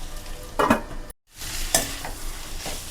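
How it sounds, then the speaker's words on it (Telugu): A spoon stirring bitter gourd curry in a pan over a low frying sizzle, with a few distinct scraping strokes and a brief silent gap in the middle, close by and without speech. "మధ్య మధ్యలో ఇలా మూత తీసి కలుపుకోండి"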